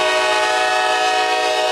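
A C&O yard job freight train led by locomotive 2041, running a local between Walbridge and Stanley Yard near Toledo, sounds its horn in one loud, sustained chord held for the whole clip.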